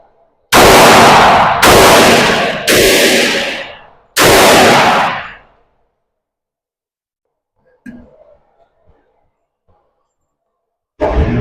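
Four loud, sharp 9mm pistol shots come from a Glock 19X fired at a Dot Torture paper target on a range. Three shots come in quick succession, then a fourth after a short pause, each with a brief ringing tail. Faint handling noises follow in near silence.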